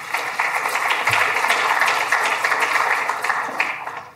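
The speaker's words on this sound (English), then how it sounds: "So please, everyone, a round of applause for Liz." A conference audience applauds a speaker in a steady, dense wash of clapping from many hands that holds for several seconds before tapering off near the end.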